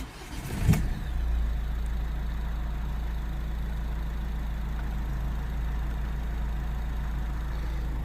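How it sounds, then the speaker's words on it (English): A Ford Mondeo with an engine fault starts with a brief burst, then settles into a steady, low, close idle drone that continues alone for several seconds. "Okay, let's start the engine then."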